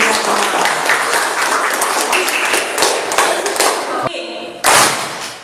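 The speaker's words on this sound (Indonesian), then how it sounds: "Tepuk tangan untuk kita semua." A classroom of students claps together in dense, close applause that runs for about four seconds, then breaks off abruptly, followed by a brief burst of noise.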